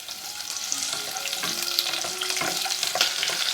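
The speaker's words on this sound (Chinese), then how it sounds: "起锅烧油，把我们准备好的姜、葱、蒜倒进来爆香" Ginger, scallion and garlic hit hot oil in a wok, giving a dense, steady sizzle and crackle with some stirring scrapes, close and continuous.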